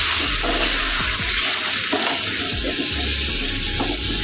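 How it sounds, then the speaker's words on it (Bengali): A small amount of water is poured into a vegetable curry in a pan, giving a close, loud rushing gush with bubbling sizzle throughout and no talk. "আর জলটা দিয়ে দিচ্ছি"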